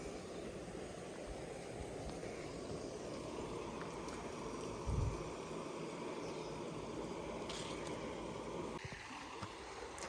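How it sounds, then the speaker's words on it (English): The River Coln flows through the Cotswolds countryside, a steady, soft wash of running water that continues without a break, with a brief low thump partway through. "I thought I could hear a stream."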